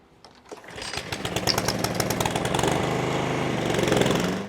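Rotary lawn mower starting up and cutting grass for striping, a loud, close engine roar that builds quickly and holds steady before cutting off at the end.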